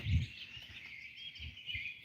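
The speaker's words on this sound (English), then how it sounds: "What you're hearing is the birds" Birds singing at sunrise: faint, high chirps and a thin, continuous twittering that drift softly in the distance over a brief quiet stretch.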